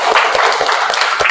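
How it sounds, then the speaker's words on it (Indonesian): A classroom of teachers claps together for a short burst during a teacher-training session, dense overlapping hand claps with a few louder accents, close and steady. "Silakan tepuk tangan dulu"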